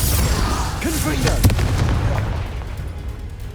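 Confringo explosive spell in the Hogwarts Legacy video game bursts with a loud boom near the middle, part of a busy stretch of combat effects with brief voice fragments nearby, then fades into a lingering low rumble.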